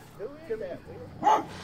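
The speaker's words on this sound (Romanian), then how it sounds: "cum latră la el" A dog barks at its owner, who has been away a long time and is not recognised, in a few short yaps that rise clearly at the end, mixed with people talking close by.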